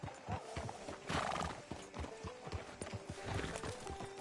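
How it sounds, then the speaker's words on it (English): Horse hooves clip-clop steadily in a PS4 video game, close and rhythmic, with a whinny partway through and faint background game sound. "Can you grab Anders off your horse and carry him in for me"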